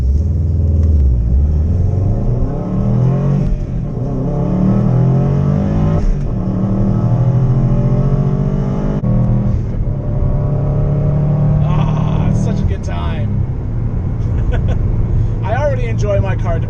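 A Subaru WRX STI engine revs under hard acceleration, with rising and falling roars that surge repeatedly and stay loud and close, and a voice talks over it at times.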